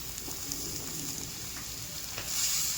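Chopped fresh coriander sizzles and fries in a hot pan during vada pav preparation, a soft continuous crackle with occasional faint stirring scrapes, quiet and close, rising slightly toward the end.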